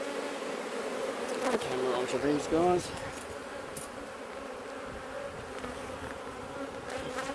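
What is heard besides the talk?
bees buzzing around hive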